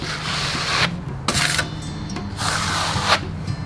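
Steel trowel scraping and smoothing tadelakt lime plaster across a shower wall, giving repeated broad rasping strokes that start and stop in an uneven rhythm, close and fairly loud, with no voices.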